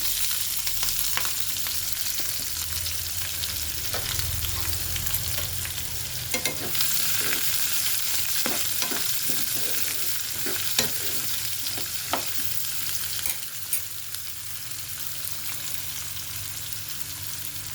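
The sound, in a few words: onion and green chillies frying in pan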